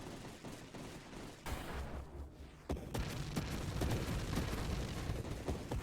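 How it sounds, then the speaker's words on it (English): Explosions in the video game Gone Rogue, a dense, continuous barrage of blasts and crackling bursts that swells louder partway through and keeps rumbling with rapid repeated impacts to the end. "And everything exploded."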